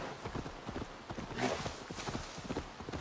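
A horse's hooves clip-clop in a steady walking rhythm in the Viking-era game Assassin's Creed Valhalla, fairly quiet and close, with a faint snort midway.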